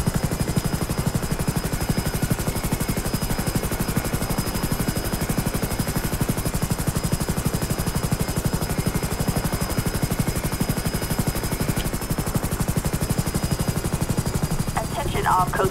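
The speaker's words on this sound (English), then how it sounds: "very, very nice helicopter" A Los Angeles County Sheriff Rescue 5 Super Puma helicopter in GTA 5 LSPDFR gives a steady, loud, rapid rotor chop that runs throughout, with a brief faint click near the end.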